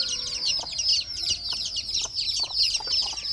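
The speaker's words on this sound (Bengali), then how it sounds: "এইখানে আছে হচ্ছে মুরগির বাচ্চা। সাউন্ড শোনা যাচ্ছে, চিচু চিচু, সারাদিন এরকম করতেই থাকে।" Baby chicks chirp without pause in a high, busy chorus, with a few louder clucks and faint knocks rising under the steady peeping.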